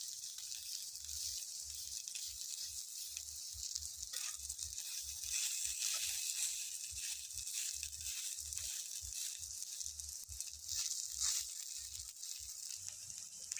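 Onion-stalk and potato fritters frying in oil on low heat give a steady soft sizzle with fine crackle throughout, close and continuous, without speech.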